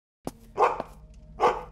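A dog barks sharply in a horror video game, a quick bark followed by a couple of louder, drawn-out barks, close and clear with no speech.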